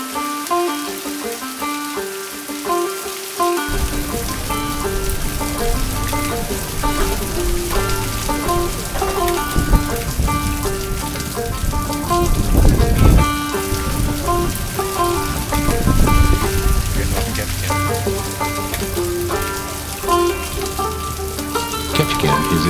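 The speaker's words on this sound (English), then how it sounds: "Ketchikan is a very rainy spot, getting almost 150 inches of rain every year." Steady rain falls on surfaces in Ketchikan, Alaska in the early morning, a dense continuous patter that continues for the whole stretch alongside a sustained background hum, with heavier rustling bursts partway through and no talk.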